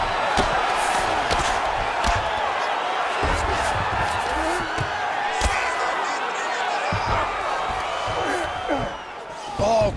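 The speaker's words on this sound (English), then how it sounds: "crowd just loving it" A big arena crowd in EA UFC 5 cheers and roars continuously at a UFC 296 bout, a loud, dense wash of noise with thumps of strikes and commentators talking over it.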